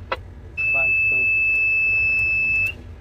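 A fault alarm from an unmanned machinery monitoring system sounds as one steady, high-pitched electronic tone lasting about two seconds. It sits over low background hum, with a brief voice just before it starts.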